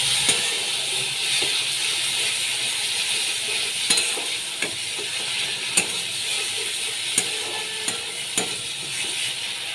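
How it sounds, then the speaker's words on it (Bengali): Spices with Kashmiri chilli powder stir-fried together in a pan for a tilapia curry with mustard and garlic paste, giving a steady close sizzle with occasional sharp clicks of a spatula scraping the pan. "ভালো করে আমি মশলাগুলোকে একসঙ্গে কষিয়ে নিচ্ছি"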